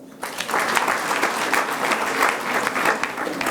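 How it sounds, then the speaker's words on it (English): An audience at a marketers' evening event claps for a speaker, sustained even applause starting after a short quiet moment and continuing steadily to the end. "A clap for Charles."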